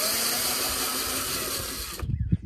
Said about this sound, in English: I'm going to go ahead and remove these screws that are holding the grill in place